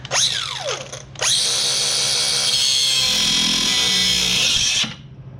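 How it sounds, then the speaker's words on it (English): An angle grinder cuts through metal beside the brake line under a 2000 Subaru Impreza RS: a brief spin-up and stop, then a loud, steady high-pitched cutting whine for several seconds before winding down. "Alright, so I've got my grinder here. I'm going to try to be real precise and not cut my brake line."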